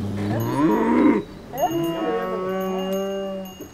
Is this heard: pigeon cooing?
no